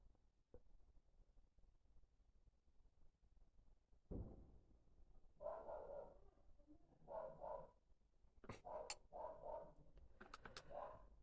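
A dog barks several times in short bursts, faint and some distance away, in an otherwise quiet room.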